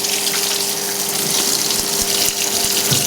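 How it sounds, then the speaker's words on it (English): A 2002 Kelvinator K605 washing machine fills with cold water for its deep rinse, a steady loud gushing rush of water pouring into the tub with a faint pump hum underneath, continuous throughout with no talking. "the wash light turned off, and now we're in deep rinse. Filling with cold water."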